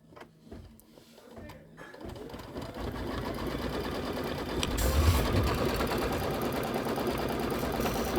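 A Kimberbell embroidery machine starts up and stitches a fabric tack down, building into a fast, steady mechanical rattle of needle strokes that continues close and loud to the end.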